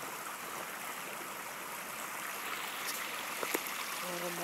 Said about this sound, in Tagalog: Kasi yung sapa dito puro bato.